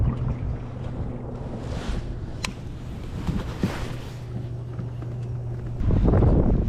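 Wind gusting across open water on Lake Murray in winter, heard from a fishing boat as steady rushing buffeting on the microphone with a low engine hum beneath, growing stronger at the end, no speech.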